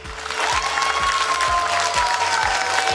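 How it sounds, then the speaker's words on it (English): A crowd at a Diwali Mela breaks into dense, steady applause for the event's organisers, loud and sustained throughout, with a thin high tone running through it. "Give them a round of applause."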